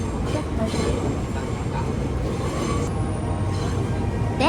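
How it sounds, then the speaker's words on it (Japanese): A Nankai tourist train arriving at Kudoyama station fills the scene with a steady loud rumble and rolling noise from inside the carriage, with a rising whine near the end. "電車は九度山駅に到着しました。"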